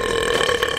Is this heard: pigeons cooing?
no